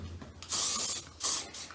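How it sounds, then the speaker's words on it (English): Hairspray from an aerosol can misted onto the hair roots before backcombing for blow-dried volume, heard as two close, loud hissing bursts, the first longer than the second, with a faint click beforehand. "before we tease the hair, before we backcomb it, we will spray the hair"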